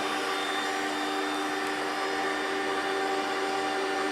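A KitchenAid or WonderMix stand mixer kneads bread dough as white flour is dumped in, its motor whirring at a steady, loud, unbroken drone with a faint high whine and no voices.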